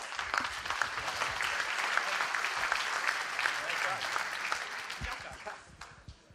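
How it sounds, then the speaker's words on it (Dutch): Audience applause welcoming a speaker to a Social Media Club event in Groningen, steady crowd clapping that gradually fades toward the end. "Steven van Bellegem, applaus alsjeblieft"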